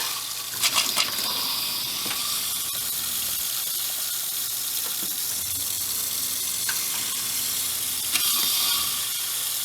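Water rushes steadily from an RV kitchen sink faucet as red antifreeze is pumped through the lines during winterizing, a continuous hissing gush with a few brief clunks.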